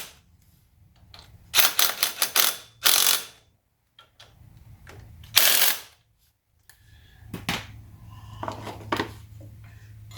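Impact gun tightening bolts on the front brakes of a 2014 Honda 400X, several short loud rattling bursts separated by pauses, with quieter clicks and handling noises between them.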